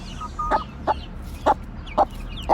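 Gurk hens cluck in short, sharp bursts, about five evenly spaced calls over a low farmyard background, close and fairly loud.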